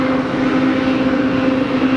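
An aircraft at Geneva Airport, a steady loud engine drone with a constant hum throughout, heard alone without talk.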